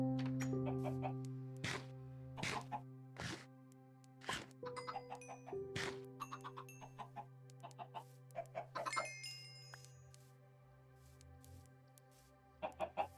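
Minecraft chickens cluck in short, repeated bursts over a steady game background hum, with occasional chime-like tones and brief sharper calls scattered through.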